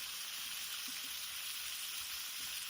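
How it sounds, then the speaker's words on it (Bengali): Mixed vegetable curry (panch meshali torkari) sizzles in a hot pan as it is stirred, a continuous bright frying hiss with faint soft stirring bumps underneath and no voices. "সমস্ত কিছু একসাথে ভালো করে মিশিয়ে দেওয়া হচ্ছে"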